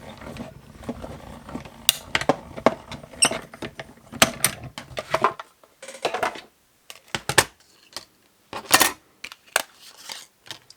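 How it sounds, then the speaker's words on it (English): A small manual cut-and-emboss machine cranking a craft panel through its rollers, irregular creaks, clunks and grinding bursts in short spurts with pauses, close and fairly quiet. "So I'm going to put that on there and run it through. my little mini cut and emboss."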